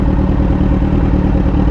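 A Benelli 600i motorcycle engine runs steadily nearby, a smooth, continuous low rumble with a faint mechanical clatter throughout and no pauses.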